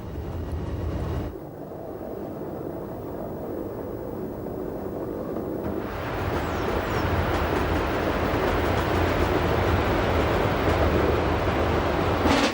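The Glacier Express rolls on the Furka-Oberalp rack railway across the 48-metre-high Rhone viaduct, a loud, steady rumble of wheels and carriages that swells and stays dense throughout, with no voices.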